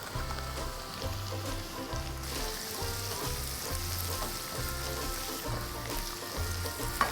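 Onion frying on a garlic base in a pan for anda ghotala, a continuous crackling sizzle heard close up with a low rhythmic hum underneath and occasional light stirring; no speech.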